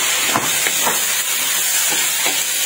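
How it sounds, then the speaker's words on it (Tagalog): Loud, steady hiss of shrimp frying in a hot pan, with soft scraping strokes of stirring breaking through the sizzle a few times. "ay ihalo na dito ang hipon"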